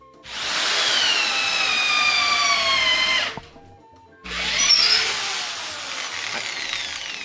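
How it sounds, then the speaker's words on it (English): A power drill runs during a woodworking session in the shop, setting up a blacksmithing anvil in its stand: a steady whine for about three seconds, a short pause, then a second longer run, close and loud, with no talking. "For some reason, Bart does not give a shit about the drill noises."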